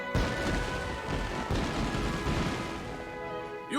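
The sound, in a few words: fireworks going off in Ni No Kuni video game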